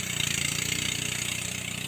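A rice thresher machine engine runs steadily in a continuous, loud drone with a dense mechanical rumble and no pauses or voices.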